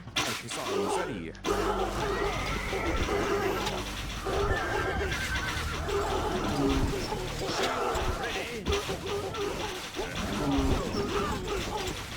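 A horse neighs in the Stronghold Crusader strategy game, several whinnies and snorts over busy battle noise with clashes and thuds, while people talk throughout.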